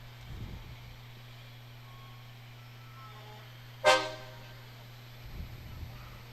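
A great big tow truck's horn blasts once in a Fourth of July parade in Waupaca, a sharp toot that fades over a second above a low steady hum, with faint voices in the crowd.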